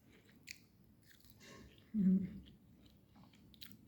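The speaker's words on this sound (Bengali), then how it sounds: "একটা মাংস খেয়ে দেখি" Someone chews a tender piece of cooked meat at a village meal, a short loud burst of mouth sounds near the middle over faint background noise.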